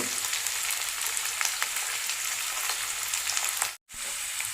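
Garlic, ginger and curry leaves sizzle steadily in hot oil in a pan for a fish head curry, a dense close frying hiss broken by a brief silent gap near the end.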